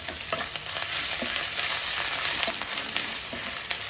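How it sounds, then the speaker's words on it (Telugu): Green chilies and onions fry in a hot pan for mutton paya, giving a dense, close, continuous sizzle with faint scraping stirs now and then and no talking. "3-4 పచ్చిమిరపకాయలు ఇవి వేసి ఉల్లిపాయ వేగేంత వరకు వేయించాలి"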